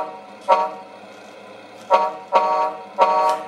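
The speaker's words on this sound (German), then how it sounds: "Hupe." A Tamiya RC truck fitted with an MFC-03 sound unit gives four short electronic horn toots, evenly loud and close, with the last two coming in quick succession.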